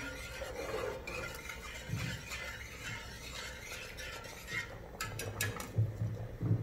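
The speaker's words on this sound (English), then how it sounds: "we're just going to stir this to thicken." Béchamel sauce being stirred in a pan to thicken for mac and cheese: steady soft scraping and swirling of a utensil through thick liquid, with a few light clinks against the pan, close and continuous.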